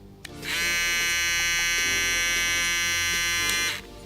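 A BaBylissPRO dual foil electric shaver switches on and runs with a steady, high-pitched whirring buzz for about three seconds before cutting off, close to the mic with no talking.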